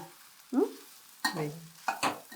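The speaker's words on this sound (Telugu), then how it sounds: "దీన్ని అయితే కొంచెం వేగించుకున్నాము ఇంకొంచెం వేగాల" Grated carrot for carrot halwa being sautéed and stirred in a pan, heard as three separate scraping stirs with a soft sizzle, close and fairly loud with no talk.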